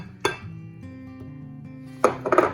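A spoon knocks against a bowl while blueberries are mixed into muffin batter, giving a few bright clinks spread apart over a low, steady background hum.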